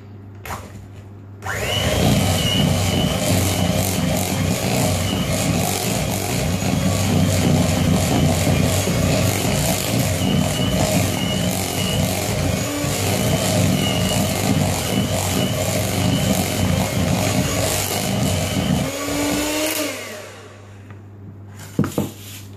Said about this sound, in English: Whisking well between each egg.